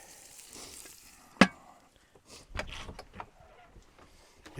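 Food browning in a pan on a portable propane camp stove in an ice-fishing shanty at Voyageurs National Park, with a steady low sizzle broken by a sharp clack and a few scattered bumps and scrapes.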